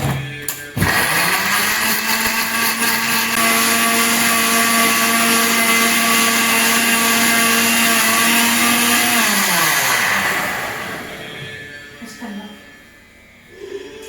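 A mixer grinder whirs at high speed, grinding chopped tomatoes in a loud, steady motor drone that starts abruptly, holds for about nine seconds and then winds down. A faint voice follows.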